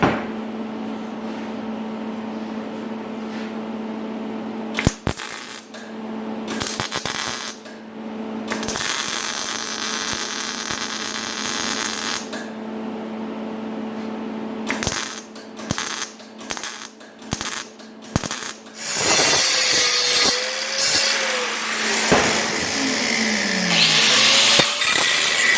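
Welding a small scrap metal patch onto a rusty car cross member in a workshop, heard as bursts of buzzing, crackling arc noise separated by short pauses, with harsher crackle and metallic clatter toward the end.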